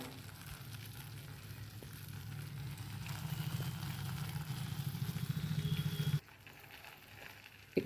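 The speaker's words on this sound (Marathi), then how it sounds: "ह्याला आपण आणखी एक दोन मिनटं व्यवस्थित परतूया" Red pumpkin halwa sizzles steadily as it is sautéed in a pan, a continuous frying crackle with stirring scrapes that grows louder before cutting off abruptly.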